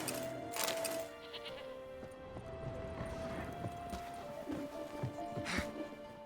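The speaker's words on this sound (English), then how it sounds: "they've even got farm animals here. Pigs and goats and such" Goats bleat faintly amid ambient bustle and hoof clatter in a bandit camp built in a quarry in The Witcher 3, with distant animal calls and scattered knocks spread across the scene.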